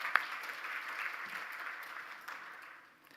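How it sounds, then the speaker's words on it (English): An audience at a strategic plan launch gives a round of applause, a dense burst of clapping that holds steady before tapering off. "can we give ourselves and our esteemed guests a round of applause?"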